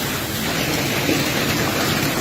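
Hailstones drumming on a fibre roof during a storm in Patiala, Punjab, a dense, steady hiss-like patter with no gaps and no voices, loud and constant throughout.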